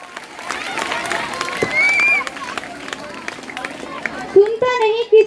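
Applause for a performer at a school Independence Day celebration, a crowd clapping at moderate distance with scattered cheers and children's voices, broken by loud bursts of close talk near the end.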